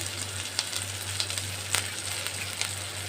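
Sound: ginger and green chili paste frying in a pan

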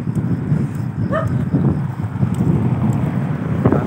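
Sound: strong wind

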